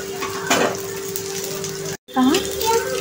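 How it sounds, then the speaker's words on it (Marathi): A chicken burger patty shallow-fries in a pan over medium heat, a steady close crackling sizzle with a faint tonal hum underneath, broken by a brief gap and a scrape as it is handled. "आपण शॅलो फ्राय करतो आहोत."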